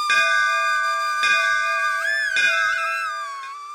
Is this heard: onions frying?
no